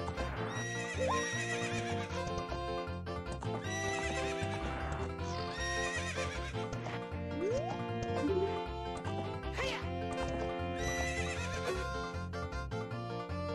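In Zelda Ocarina of Time, a horse whinnies repeatedly and its hooves clip-clop over continuous game music, the neighs rising clearly above the melody several times.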